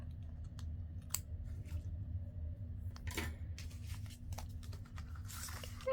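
Scissors trim paper for a lavender and violet journal page, giving faint, sparse snips and crisp rustles over a quiet low hum, with one louder crunchy cut near the middle.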